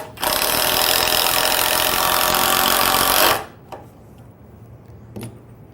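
A 12-volt cordless impact driver sends a screw into hard maple, giving one loud, continuous rattling hammer of about three seconds that stops abruptly, followed by a couple of faint clicks.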